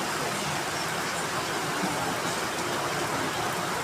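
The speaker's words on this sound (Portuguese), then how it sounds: "Primeira chuva de janeiro" Heavy rain on a January night in Itapipoca, Ceará, Brazil, a steady, dense hiss of downpour that fills the whole time without a break.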